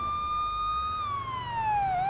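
A police car siren in the night-time Los Angeles patrol simulator game wails as a loud steady electronic tone, then sweeps gradually downward in pitch, with no talk over it.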